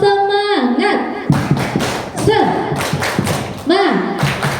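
Children at a school outreach event do a rhythmic clap chant, sharp claps and thumps arriving in short bursts between chanted and sung voices, close and lively.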